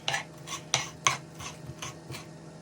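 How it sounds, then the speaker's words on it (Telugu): A knife chops coriander leaves on a board, with about seven evenly spaced crisp cutting strokes, close and quiet. "నేను కొత్తిమీర కట్ చేస్తాను అనమాట"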